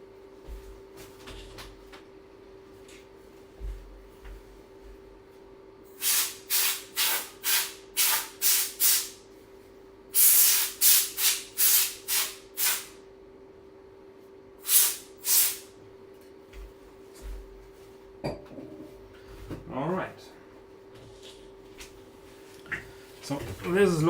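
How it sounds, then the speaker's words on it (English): Compressed air sprayed onto a Commodore Plus/4 computer during repair, a series of sharp, loud hissing bursts in quick succession, some short and some longer, with a faint hum and brief handling noises around them. "spray some compressed air on it"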